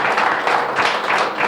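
Audience applause at a benefit event for Fairdale tornado relief, a brief burst of dense, loud clapping from a crowd, steady and close.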